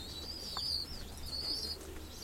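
Pigeons coo softly in a loft where a breeder keeps his birds and young squabs; faint intermittent calls and light chirps sit over a steady low background hum, with no talking.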